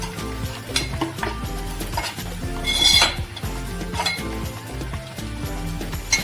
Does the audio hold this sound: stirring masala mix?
yes